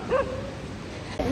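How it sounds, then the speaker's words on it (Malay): A dog on a Langkawi beach gives a short yelping bark, then a second brief yip a moment later, set against steady outdoor background noise. "Anjing ada."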